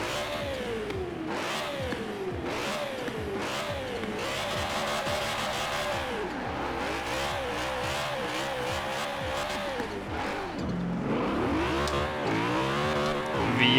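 A loud V8 roadster engine in the video game Forza Horizon 4 revs up and down over and over, rising whines and drops as gears shift, continuous and close with no pauses.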